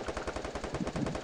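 Rapid automatic gunfire in the Free Fire video game, a steady burst of closely spaced shots rattling loudly and continuously without a break.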